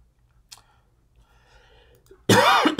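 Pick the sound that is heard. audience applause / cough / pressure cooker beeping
cough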